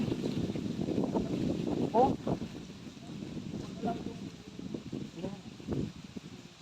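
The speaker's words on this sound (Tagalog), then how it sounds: "grabe yung lakas ng hangin yun dito" Strong wind blows outdoors, a steady buffeting rumble that fills the whole stretch, with voices talking over it.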